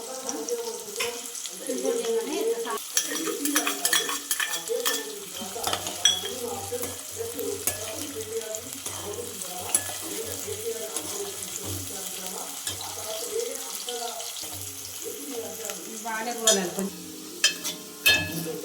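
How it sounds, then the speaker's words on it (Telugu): Onions fry with cumin, cardamom, cinnamon and coriander in a pan for chicken curry, giving a steady close sizzle and repeated scraping stirs, with a low hum underneath. "ఇలా గోల్డెన్ కలర్లో మనము ఆనియన్స్ని ఫ్రై చేసుకోవాలి."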